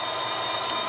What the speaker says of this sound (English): all the other trains are making a racket over there.